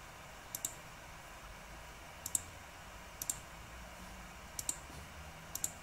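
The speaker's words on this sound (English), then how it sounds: "you can just hear my intense clicking as I do this" A computer mouse clicks in quick double taps while building in Theme Park Tycoon, five or six paired clicks spaced unevenly over a very quiet, faint background.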